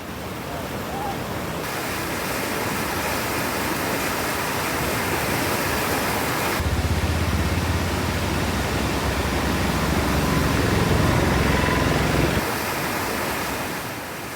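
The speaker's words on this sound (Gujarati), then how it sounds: "અરવલ્લીના યાત્રાધામ શામળાજીમાં પણ ધોધમાર વરસાદ છે" Heavy monsoon rain pours down at the Shamlaji pilgrimage town in Aravalli, Gujarat, where water floods the roads to the temple. It makes a loud, steady broadband roar like surf that holds through the whole stretch, with no voices.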